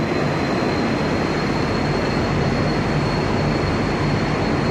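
Steady broadband rumble of a metro train at Southern Cross station in Melbourne, a continuous loud rolling roar with a faint high whine running throughout, no voices.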